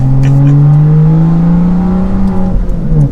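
A BMW M2 engine with a six-speed manual revs up steadily in comfort mode, heard from inside the cabin, a loud droning hum that climbs in pitch and then shifts as it gathers speed.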